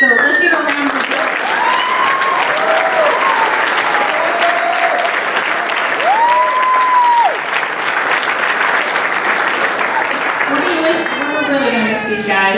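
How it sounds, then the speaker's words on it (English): A large audience at a military class graduation claps steadily for about twelve seconds, a dense sustained wash of applause with voices and faint tonal sounds running underneath. "So let's give a round of applause."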